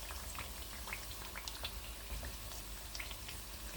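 Steady sizzling and crackling of thattai, rice crackers, frying in oil over medium heat, with scattered pops over a constant hiss; no voices.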